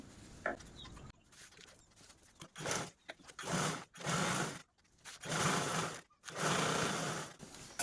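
A sewing machine stitches a zip onto old cloth in several short runs, each a steady whirring burst separated by brief pauses, close and fairly quiet.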